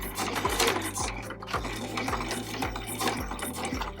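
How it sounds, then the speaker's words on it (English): A sewing machine stitches elastic onto a fabric sleeping eye mask, running in short repeated bursts with rhythmic mechanical thumps, close and fairly quiet. "just go ahead and get that under your presser foot and then stitch it down and do a little back stitch"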